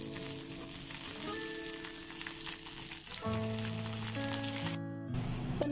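Curry leaves, small onions and green chillies sizzle steadily in hot oil for Kerala sadya sambar, a continuous close frying hiss with faint tonal sounds running underneath.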